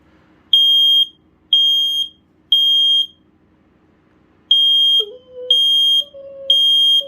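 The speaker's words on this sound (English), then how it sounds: "Again, it's like the same alarm." A piercing First Alert PC1210 photoelectric smoke alarm's piezo sounds in two groups of three long shrill beeps, loud and close, with a brief lower tone between the later beeps.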